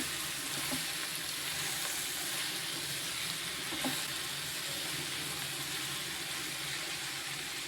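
Vegetables for ragi khichdi sizzle steadily in a pan, a dense continuous frying hiss close by with a few faint clicks of utensils scattered through.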